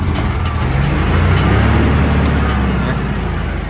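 A remapped Isuzu 6UZ 380-horsepower diesel truck engine roars loudly and steadily at high revs, its deep drone held near the limiter with a faint whine above.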